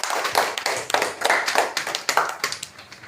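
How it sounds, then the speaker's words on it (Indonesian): Children in a classroom clap for a presenting group: a scattered round of applause with uneven, overlapping hand claps, moderately close and continuing throughout without talk. "beri tepuk tangan untuk kelompok C"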